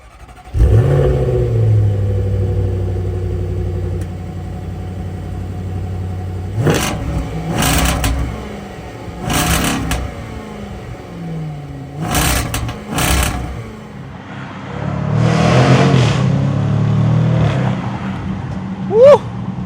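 A supercharged V8 in a Jaguar F-Pace SVR 575 Edition SUV holds a steady idle hum, then surges hard through several rising revs with short breaks between them, loud and close, ending in a deeper sustained roar.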